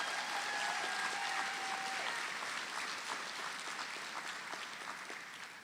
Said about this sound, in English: Class of 2025, please give our staff and faculty a rousing round of applause.